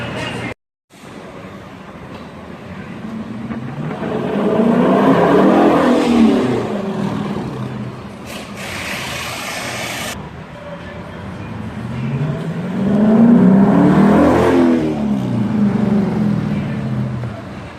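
A 2018 Jeep Grand Cherokee Trailhawk engine with no exhaust revs up twice in long swells, loud and raw, with a brief cutout at the start and rough mechanical noise between revs.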